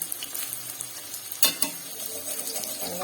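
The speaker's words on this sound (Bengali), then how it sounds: "ভেজে নেব অনেক সুন্দর খাবার" Pumpkin seed fritters fry in a pan, giving a steady soft sizzle with a few sharper scraping or stirring clatters midway, moderately quiet and without talk.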